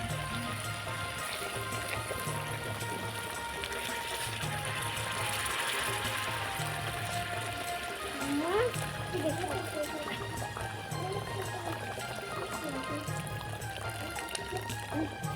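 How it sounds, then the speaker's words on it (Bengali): Hot water pours into a pot of simmering desi chicken and potato curry, giving a soft gurgling splash midway over a quiet, steady bubbling background. "এখন এর মধ্যে দিয়ে নেব গরম জল"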